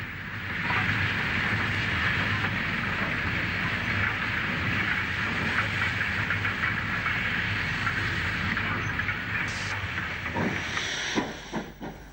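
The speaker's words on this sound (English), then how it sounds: "Number 6825 Llanfire Grange makes a steamy passage through the station with LMS Pacific 6229 Duchess of Hamilton in tow." Great Western Grange steam locomotive No. 6825 Llanfair Grange hauls LMS Pacific No. 6229 Duchess of Hamilton through Wellington station, a loud continuous roar of steam hiss with faint rail clatter, easing toward the end.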